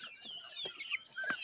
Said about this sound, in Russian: Вот они, 3 цыпленка, все живы-здоровы.